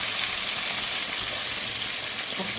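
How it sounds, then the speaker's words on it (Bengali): Pieces of katla fish frying in hot oil in a home kitchen, a steady dense sizzle and crackle that holds evenly throughout with no voices. "কাতলা মাছগুলো ভেজে নিচ্ছে"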